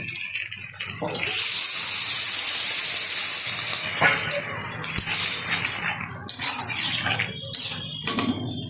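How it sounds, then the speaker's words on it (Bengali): Water poured into a pan of papaya shukto on the stove, a steady rushing splash with a sizzling hiss that runs for several seconds, followed by softer clinks and bubbling. "এখন দিয়ে দেবো পরিমাণ মতো জল।"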